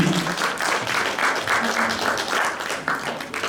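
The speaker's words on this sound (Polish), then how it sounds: "Gorące brawa, kani Państwo, dla naszej małej Zuzanki" An audience at a charity concert applauds steadily for a young girl named Zuzanka, the dense clapping holding fairly loud throughout with a faint voice beneath.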